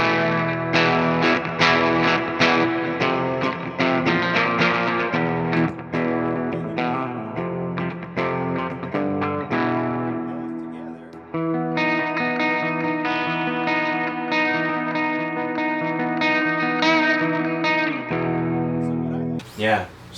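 Electric guitar chords played through the bright channel of a Sunn Model T clone amp by Death Cap Amplification: loud, distorted strummed chords ring out in quick succession, then one long sustained chord holds before cutting off abruptly.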